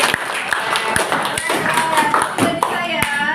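A classroom of students claps their hands together in a lively burst of scattered, overlapping claps, with voices chattering underneath.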